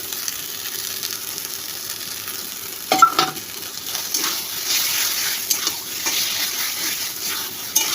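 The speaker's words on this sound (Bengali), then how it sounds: "এখন আমি এখানে চিনি দিয়ে দিব" Wild taro stems frying in a pan as sugar goes in and they are stirred, a steady low sizzle with a sharp clatter near the start and scraping stirs continuing.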